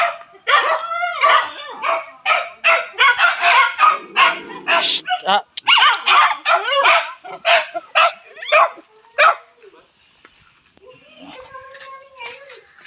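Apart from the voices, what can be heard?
many dogs barking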